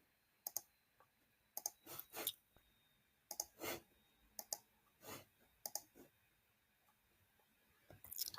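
A computer mouse clicks repeatedly, about a dozen sharp, quiet clicks in small irregular pairs and clusters, close up in an otherwise quiet room with faint electronic whine.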